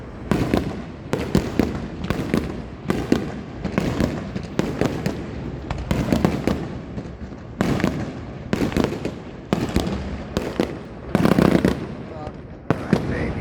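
Rapid bursts of fireworks and firecrackers at a USA 250 celebration crackle and pop across the whole stretch, loud and close, in dense repeated volleys with brief gaps, while people talk in the background.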